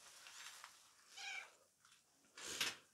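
A barn cat with her kittens gives a few soft, faint meows in short separate bursts, with quiet gaps between them and no voices.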